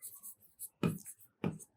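A math formula is written on a board in a few short, quiet strokes, two firmer marks standing out among faint scratches, with no talking.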